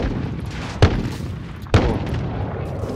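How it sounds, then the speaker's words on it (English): Two heavy booming blasts, a second apart, ring out over a steady background din during a Call of Duty Modern Warfare match, in the manner of an incoming cruise missile strike. "Cruise missile."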